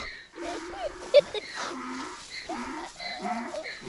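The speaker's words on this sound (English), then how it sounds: "She's a cow." A cow on a rural farm in Peru moos in several drawn-out lowing calls, close by, with some voices and other farm sounds around it.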